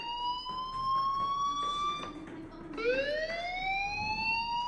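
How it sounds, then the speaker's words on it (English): A fire alarm rings in the video game Life is Strange, a loud wavering electronic siren tone that rises and falls twice over a busy background of game ambience. "Hey, do you hear that fire alarm? That means you should be outside."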